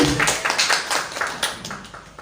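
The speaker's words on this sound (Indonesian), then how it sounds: "Tepuk tangan buat Bu Intan." A roomful of people clapping briefly for a teacher receiving a prize, a quick burst of close overlapping claps that fades after about two seconds.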